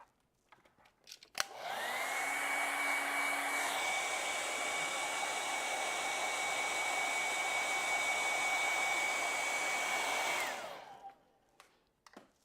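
Hair dryer blowing steadily on a wet acrylic painting, switched on with a click and running loud and continuous for about nine seconds, pitch shifting slightly partway, then winding down and off.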